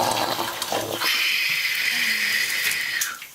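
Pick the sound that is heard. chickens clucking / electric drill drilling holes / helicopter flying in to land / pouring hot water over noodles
pouring hot water over noodles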